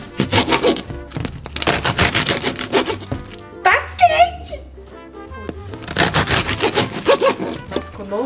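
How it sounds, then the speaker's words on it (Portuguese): Bread being sliced with a knife in a small home kitchen, rhythmic rasping saw strokes in bursts, close and fairly loud, with short pauses between runs and a voice speaking briefly in the middle. "Vou cortar o pão agora."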